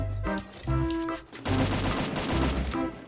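Gunfire in the Free Fire battle royale game, dense rapid bursts of automatic shots packed close together, loud and near, with only a brief pause between volleys.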